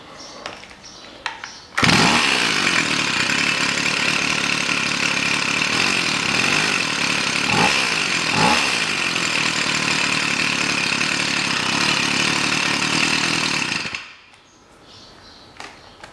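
A Stihl FS 55 string trimmer, earlier flooded with too much oil, starts and runs steadily at a loud, close, buzzing two-stroke pitch for about twelve seconds, then cuts off abruptly into quiet.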